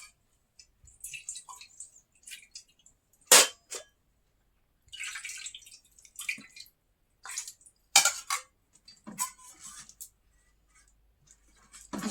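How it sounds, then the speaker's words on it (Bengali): Bowls are washed before rice is served, with scattered clinks and clatters of dishes, a few sharp knocks, and running water trickling in short bursts separated by quiet gaps. "এখন বাটি ধুয়ে নিই, ভাত বাড়বো।"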